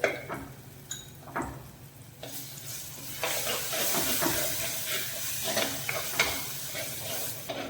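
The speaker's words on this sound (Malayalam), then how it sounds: "മസാല ചേർത്തിട്ട് നന്നായിട്ടൊന്ന് വഴറ്റി കൊടുക്കാം" Masala paste sautéing in a pan for tuna curry, a crackling sizzle with repeated scraping and stirring strokes, getting louder and steadier midway, close to the pan with no one talking.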